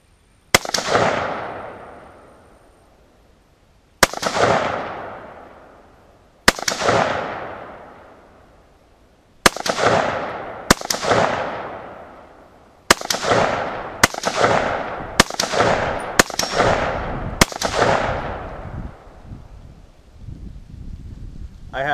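A rifle fires TulAmmo .223 rounds at an outdoor shooting range, ten sharp loud shots spaced a few seconds apart, each followed by a long echoing decay, with faint wind noise between.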